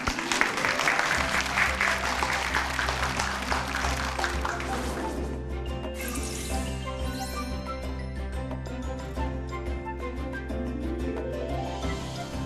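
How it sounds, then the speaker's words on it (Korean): Audience applause welcoming a lecturer at a talk concert on fine dust, steady clapping from a hall crowd with music playing over it, the clapping strongest at first and then continuing under the swelling music. "박수로 맞아주세요"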